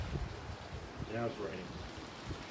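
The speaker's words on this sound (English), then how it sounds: "it's raining. There's that rain." Steady, soft rain falls outside a cave in Linville Gorge, a constant hiss throughout, with a brief voice sound rising over it partway through.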